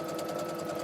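A sewing machine stitching layered half square triangle quilt pieces with a quarter-inch presser foot, a steady close mechanical whirr held at even speed throughout the short stretch.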